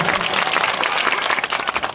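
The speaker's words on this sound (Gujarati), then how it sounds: "એમની માટે એકવાર જોરદાર તાળીઓ થઈ જાય મિત્રો" A crowd at an AAP public rally in Thuleta village near Viramgam breaks into loud, dense clapping. The applause is sustained and close, with no voices over it.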